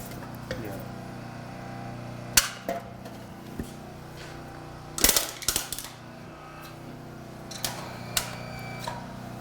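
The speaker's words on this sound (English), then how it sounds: "we're gonna show you the strength of the jaws" Hydraulic rescue jaws from a fire department's equipment crush an object flat, giving a few sharp metallic clanks and creaks between stretches of low mechanical hum, close and fairly quiet.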